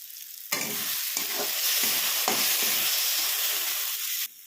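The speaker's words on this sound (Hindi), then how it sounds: "एक से 2 मिनट मसाले भी हमारे बिल्कुल भून चुकी हैं हाई फ्लेम पे" Masala spices with Kashmiri red chilli and crushed kasuri methi sizzle and fry over a high flame, a loud, steady hiss with stirring scrapes in the pan.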